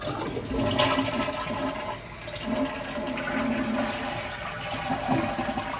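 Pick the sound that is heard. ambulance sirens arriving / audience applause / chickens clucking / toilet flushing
toilet flushing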